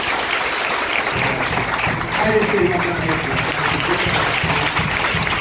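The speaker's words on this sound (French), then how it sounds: "Fais l'applaudissement de l'Assemblée." A church congregation applauds at a pastor's ordination service, a steady dense wash of clapping that stays loud throughout while someone speaks over it.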